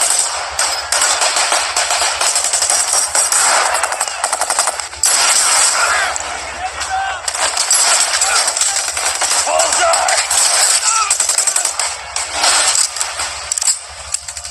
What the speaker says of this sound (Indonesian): ketiga perampok itu pun langsung beraksi dan terjadilah kontak senjata